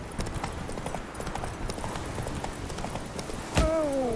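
Hooves of Roach, a horse in the video game The Witcher 3, clip-clop in a quick, continuous patter at moderate volume, with a short rising tonal cry near the end.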